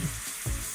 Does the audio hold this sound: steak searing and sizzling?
yes